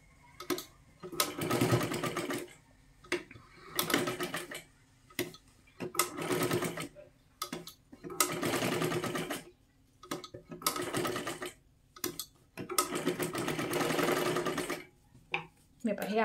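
A sewing machine stitches fabric for a princess blouse in repeated bursts of fast mechanical whirring, each run lasting about a second or two and separated by short pauses, close and clear.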